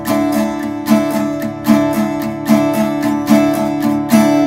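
Acoustic guitar playing the intro strum pattern of a song, regular down strums ringing out close and loud in a steady rhythm with no talking.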